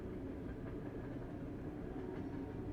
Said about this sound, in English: There's a train in the background, sorry.